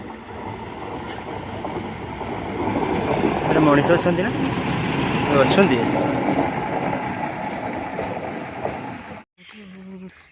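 A train passes close on a railway line near Betnoti railway station, a loud, continuous rumble with rhythmic wheel clatter that cuts off sharply near the end as people speak.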